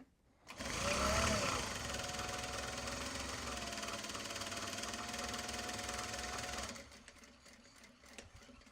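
A sewing machine stitches Japanese fabric project bags, running at a steady, fast whirring hum for several seconds before stopping abruptly, leaving a quiet room.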